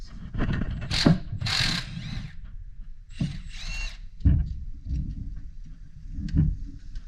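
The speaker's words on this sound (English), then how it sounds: "now I'm going to go and remove the alternator bracket" Hand tools clatter and ratchet under a car while its alternator bracket is removed, with short metallic clicks, scrapes and knocks in uneven bursts separated by pauses.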